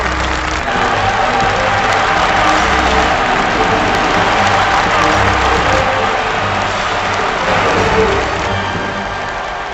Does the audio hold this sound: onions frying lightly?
no